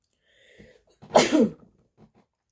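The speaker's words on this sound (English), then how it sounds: "I always sneeze." One sharp sneeze close to the microphone, with a faint intake of breath before it and quiet afterward.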